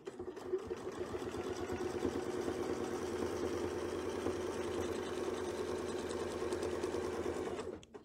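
A quilting machine stitching a large area with a Westalee Spin E Fex ruler template hums steadily and rapidly for about eight seconds, moderately quiet and alone, then stops abruptly at the end.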